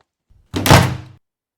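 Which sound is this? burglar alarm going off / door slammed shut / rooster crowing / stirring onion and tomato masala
door slammed shut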